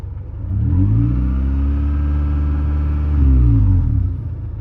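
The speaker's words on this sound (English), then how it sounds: "So here the engine is pretty much just about warmed up. I'm gonna give it a low rev." A warmed-up 2000 Honda Prelude engine idles, then is given a gentle low rev, the close rumble rising smoothly, holding, and briefly swelling again before settling.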